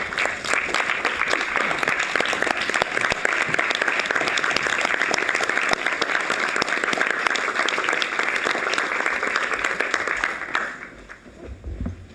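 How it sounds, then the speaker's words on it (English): Audience applause fills a board of trustees meeting, a sustained, even roar of many clapping hands lasting several seconds before tapering off abruptly near the end. "please, let's give her a round of applause"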